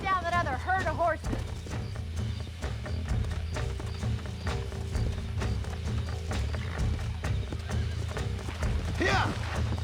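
A herd of horses in the video game Red Dead Redemption gallops with steady hoofbeats while several whinny and neigh, loud and close, with game music and voices underneath.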